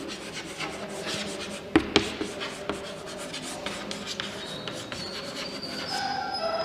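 Chalk or a marker writes notes on a classroom board during a chemistry lecture, making scratchy rubbing strokes with a couple of sharp taps near the start, over a faint background hum, with no talking.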